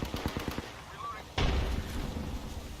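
Gunfire from the energy-ammo Havoc weapon in the video game Apex Legends: a quick run of close shots opens, then a loud blast at mid-clip is followed by a sustained, rumbling burst.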